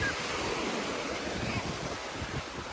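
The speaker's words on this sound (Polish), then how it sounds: "MK szaleje, o jaka fala idzie," Surf on a Zanzibar beach with seaweed-strewn water: a steady, soft wash of waves with a wind-like hiss, faint and continuous, without a distinct single crash.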